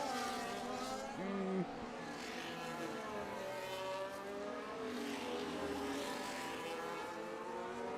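F1 25 race cars on the Baku street circuit in Azerbaijan under green flag racing, engines droning steadily with shifting pitch sweeps as cars pass, a continuous loud roar.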